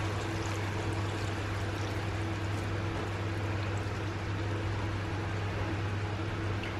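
Dissolved Mama Sita's chop suey mix poured into a pan of vegetables, a steady hissing liquid pour over a low constant hum, continuous and close throughout.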